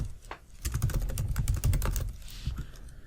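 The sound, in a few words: typing on a computer keyboard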